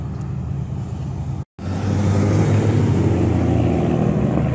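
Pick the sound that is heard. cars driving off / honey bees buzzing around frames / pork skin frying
cars driving off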